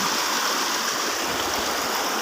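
Constant rushing stream water, a dense even roar of flowing current, close and unbroken, with no voices.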